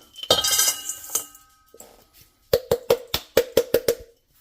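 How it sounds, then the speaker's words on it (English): Food pours into a metal mixing bowl with a ringing clatter, followed by a quick run of sharp metallic clinks and taps. Each hit is close, bright and separate, with short pauses between them. "So I'll dump this into a metal mixing bowl here."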